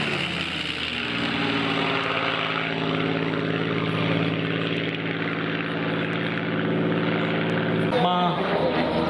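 A Spitfire's propeller engine drones steadily and loudly with strong harmonic tones, holding a constant pitch near the listener before a brief change at the very end.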